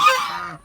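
A single loud goose honk, harsh and nasal, close by in a winter garden, trailing off after about half a second.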